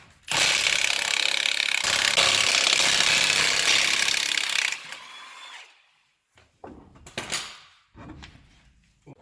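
A powered impact tool loosening 24 mm lug nuts to pull the wheel off a jacked-up Dodge/Ford Dana 60 front end, a loud continuous buzzing rattle for about four seconds, then short bursts of clanks and handling noises.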